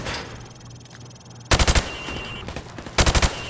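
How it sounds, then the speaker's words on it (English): Rapid automatic gunfire in Call of Duty: Modern Warfare Remastered, shooting pop-up targets through plywood: two loud bursts of about five quick shots each, separated by quieter ambient noise and scattered smaller hits. "I want you to shoot the targets through the wood"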